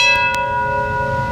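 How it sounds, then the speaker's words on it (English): A ship's bell on a tour boat rings out with a sharp strike and a clear, sustained metallic tone with bright overtones that rings on and slowly decays, close and loud, alone. "Here goes the bell."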